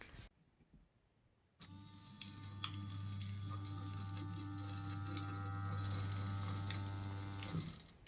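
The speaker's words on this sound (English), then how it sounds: "I can actually get this motor to turn about 360 degrees" A small electric motor drives a motorized robot wrist joint through a full turn of about 360 degrees, a steady mechanical whir with ratcheting gear texture starting abruptly and running continuously for about six seconds before cutting off, close and alone.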